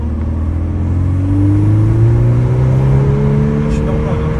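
A Volkswagen Golf 8R's exhaust drones loudly from inside the car as the engine pulls and its pitch climbs steadily, with a low rumble throughout.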